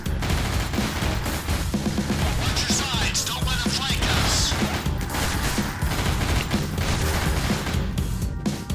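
Gunfire in the horror video game Nightmare House 2, dense bursts of shots and impacts filling the whole stretch, loud and continuous.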